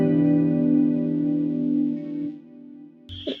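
An electric guitar chord played through a Boss GT-1 Fender Deluxe amp preset rings out with a long, smooth sustain and a reverb tail, fading gradually before a short pick noise near the end.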